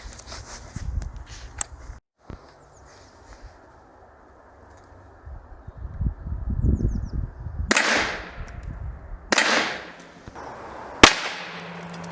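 Three sharp, loud 9 mm gunshots ring out outdoors at an LPI gas cylinder, using expansive and solid bullets. Each crack decays quickly, spaced a second or two apart, after quieter rustling and shuffling.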